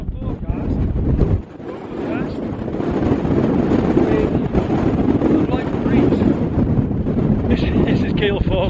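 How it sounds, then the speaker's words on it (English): Gale-force mountain wind in the Carneddau of Snowdonia roars and buffets the microphone in heavy, continuous low gusts, with a brief lull early on. "And this wind is absolutely brutal."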